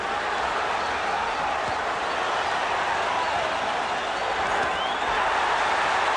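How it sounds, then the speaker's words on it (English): A boxing arena crowd roars in a steady, dense wall of cheering for Julio Cesar Chavez landing a punch against De La Hoya, continuous and loud throughout with no distinct individual voices. "The Chavez element of the crowd loving it when their man connects"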